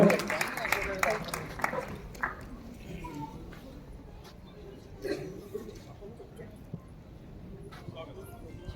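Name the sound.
audience applause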